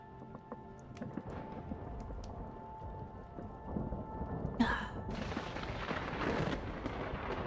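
Steady rain falls in the Vintage Story game world, and a sudden loud crack of close thunder breaks in partway through, followed by a heavier rumbling wash of rain.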